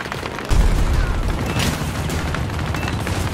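The XM370A airburst launcher fires in Battlefield 2042, a heavy boom opening into a dense, sustained rumbling roar of bursting rounds and explosions that stays loud throughout.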